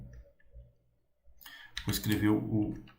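Computer keyboard clicks while Java code is typed, a few soft, close taps heard under someone talking.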